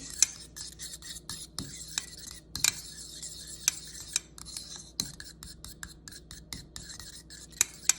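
Egg yolks being mixed with ground mustard, pepper and salt in a bowl, a utensil scraping and tapping against the dish in a steady run of sharp clicks over a soft rubbing bed, close and alone.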